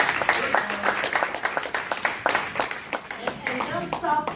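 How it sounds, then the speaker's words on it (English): Audience at an African American Chamber of Commerce political debate claps for the candidates, a sustained round of applause with distinct individual claps, while voices, including a child's, talk over it. "don't stop applauding"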